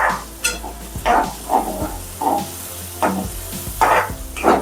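Tomatoes roasting in a pan on low gas for Gujarati suki bhaji, with bursts of sizzling and stirring scrapes recurring in an uneven rhythm, close and fairly loud.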